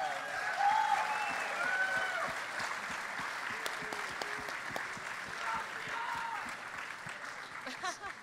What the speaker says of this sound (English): So big round of applause for the Riot team.